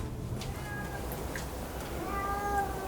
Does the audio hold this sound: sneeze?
no